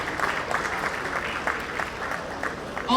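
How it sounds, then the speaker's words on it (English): Audience applause at the Indomie Independence Day Award ceremony, 11th edition, honouring graduate artists: steady, moderately distant clapping from a large crowd, sustained and even throughout. "Round of applause."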